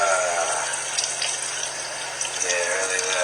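Shower water sprays steadily onto a puppy at fairly high pressure, a continuous broadband hiss and splash that runs throughout, with a voice speaking over it.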